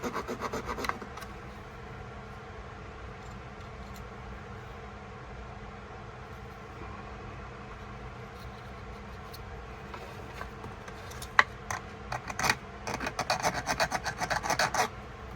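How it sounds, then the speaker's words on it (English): A continuous rasping scrape of a metal file against the blade of a Utica jack knife, steady and close, growing louder and more choppy toward the end. "I'm just going to straighten up my sanding with file."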